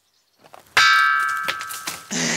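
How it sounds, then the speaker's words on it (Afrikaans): A thrown stone strikes a resonant rock outdoors in KwaZulu-Natal, producing a single sharp metallic clank that rings on like a bell and slowly fades, followed by a burst of noise. "die klip wat ek gooi klink eintlik soos 'n klok"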